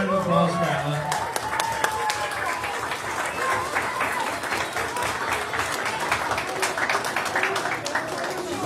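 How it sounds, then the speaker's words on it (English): Clapping and cheering fill a youth project's annual awards ceremony as a winner is applauded, brisk and steady throughout, with a voice heard briefly at the start. "Big round of applause for Ella."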